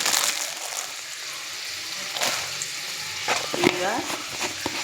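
Shrimp fries in a pan with Kashmiri cumin and chilli, a steady close sizzle broken by a few sharp stirring scrapes and spatters, with no talking.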